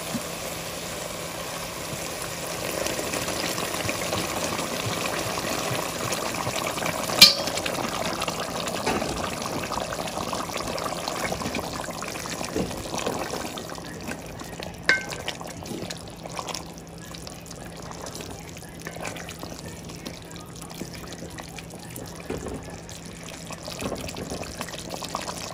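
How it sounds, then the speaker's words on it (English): Boiling water from a kettle poured into a stewing pot for stewed fish: a steady, hissing pour for several seconds that then gives way to a quieter, softer simmering with occasional small clinks. "now I'm gonna add some water, and this is boiling water from my kettle"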